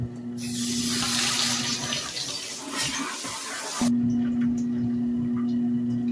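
Water runs steadily into a portable washing machine on tour, a close, continuous splashing gush over a low mechanical hum; the flow stops partway through and the hum continues alone.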